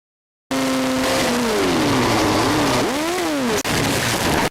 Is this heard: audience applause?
no